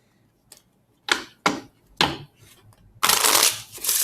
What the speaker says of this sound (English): It's hard to shuffle these little bitty playing cards.